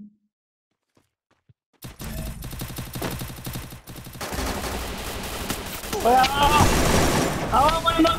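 Gunfire in the battle royale game Free Fire, rapid automatic bursts starting abruptly after a near-silent opening and growing louder, with a player talking over the shooting.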